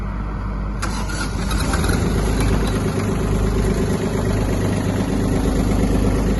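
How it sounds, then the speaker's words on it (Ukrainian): A Kubota A-15 Japanese mini tractor's glow-plug diesel engine runs loud and close, a steady rough idle with heavy low rumble and constant mechanical clatter throughout. "Давайте ще заведу разок, щоб показати вам ближче роботу двигуна."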